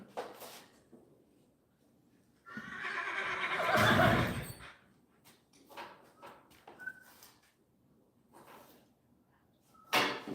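A horse in a barn lets out a loud, harsh squealing whinny lasting about two seconds, followed by shorter snorts, thumps and stall clatter, close by with quiet gaps between.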